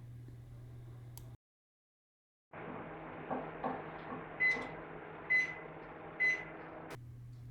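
A microwave oven hums steadily while potatoes boil inside a covered container, cutting out briefly as the door is shut, then restarting with a continuous drone and a few short beeps near the end.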